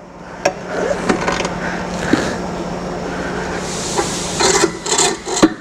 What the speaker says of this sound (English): lift the tire up, grab the second bead, being sure to stay on the tip